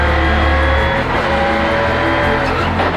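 A Subaru rally car drives hard through a forest rally stage, its engine roaring loud and close at high revs, with pitch shifting through gear changes and a steady rumble underneath.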